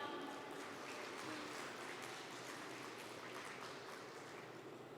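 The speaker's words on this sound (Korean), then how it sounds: "여러분 뜨거운 박수 부탁드립니다." An audience at an NFT event in Busan applauds in a steady, faint wash of clapping that slowly fades toward the end.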